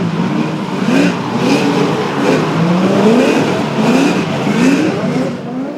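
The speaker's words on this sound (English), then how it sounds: "would follow Steedman into a fast entry, but slowing down the big Holden Commodore is no easy task." A loud Holden Commodore drift car engine roars and revs continuously at a Pukekohe drifting competition, with repeated rising pitch sweeps as it accelerates and eases off, close and steady throughout.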